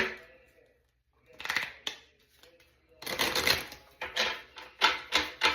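Riffling bursts of a deck of cards being shuffled, quiet at first, then several quick, loud riffles close by.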